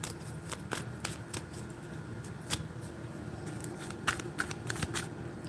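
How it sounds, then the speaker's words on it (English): A deck of tarot cards is shuffled by hand in repeated quick riffles and flicks, close and fairly quiet, with no talk. "Cranky, let me shuffle these cards"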